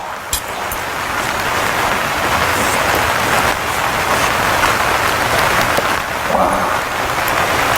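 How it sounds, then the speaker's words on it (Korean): Heavy rain drums steadily on the roof of a plastic greenhouse, a dense, continuous hiss and patter that stays loud throughout with no talking. "지금 비가 겁내게 오잖아요. 또 하우스라 빗소리까지 기가 막혀 버려갖고"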